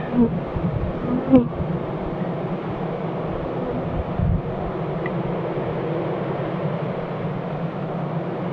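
Honeybees droning steadily at a hive in an abandoned apiary, a continuous close low hum that carries through the whole stretch with no talk.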